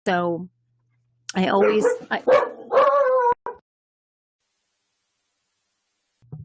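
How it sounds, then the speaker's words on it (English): A large dog of about 150 pounds, brought into a workplace, gives a short burst of yips and whimpering barks, close and loud, followed by silence and a faint sound at the end; a brief spoken word comes before. "sorry, that's my dog."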